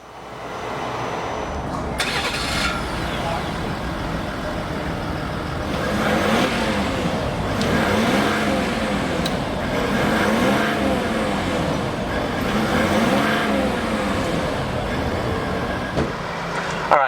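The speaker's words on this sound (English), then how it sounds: "We're going to start this F-150 Power Stroke and see what it sounds like" A 2018 Ford F-150 Power Stroke turbo diesel pickup starts up and revs, a loud close engine rumble with rising and falling swells of revving over a steady idle.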